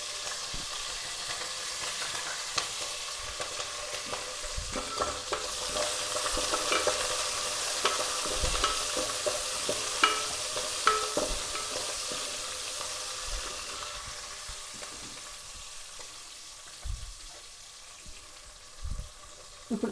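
Sliced green chilies frying in a hot tempering for coriander rasam, a steady soft sizzle of oil with scattered light pops and occasional stirring taps across the whole stretch, with no talking.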